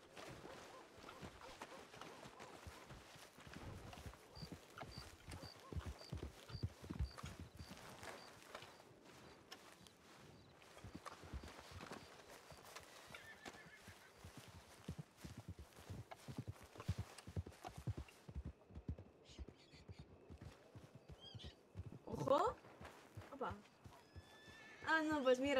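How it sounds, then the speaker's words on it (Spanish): Hooves clip-clop and a horse neighs in the Western roleplay game RedM, a long run of soft hoofbeats with whinnies near the end, mostly beneath ongoing conversation. "Caballo."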